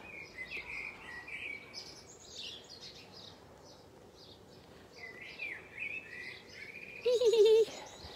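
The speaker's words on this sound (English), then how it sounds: "Hear the birds?" Faint birds chirp and sing intermittently against a quiet outdoor background in Tours, Loire Valley, with a brief louder call near the end.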